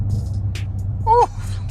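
Low, steady rumble from an idling Chrysler 300 car engine, close and continuous under a brief voice with a short whistle-like tone near the end.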